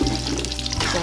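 Anchovies and tempeh being stirred into sambal in a pan, giving a close, continuous sizzling and scraping with light clatter, no voices.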